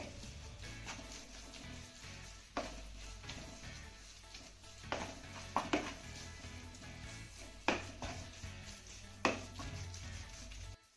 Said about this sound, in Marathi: तूप घालून झालं की हे मिश्रण आपल्याला पुन्हा दोन ते तीन मिनिटं चांगलं परतून घ्यायचं आहे